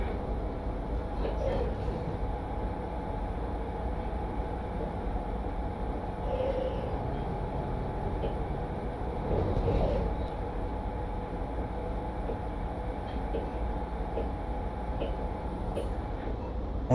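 Freight train in Train Simulator running through the Black Forest on a route toward Augsburg, a steady, loud rumbling drone of engine and wheels on rails that barely changes, with someone speaking faintly under it.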